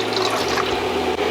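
Salted water is poured onto hot melted beef tallow, producing a steady, close pouring and sizzling gush that fills the moment without any talk.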